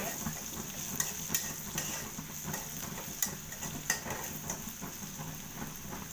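Onions and kalai greens fry in a pan with a steady close sizzle, while a utensil stirs through them with scattered clinks and scrapes against the pan.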